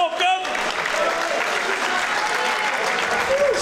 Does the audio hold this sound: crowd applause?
yes